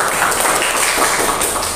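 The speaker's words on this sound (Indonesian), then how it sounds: "Tepuk tangan buat kelompok satu." A classroom group of teachers in training claps briefly for the first presenting group, a short, dense wash of applause with no speech over it.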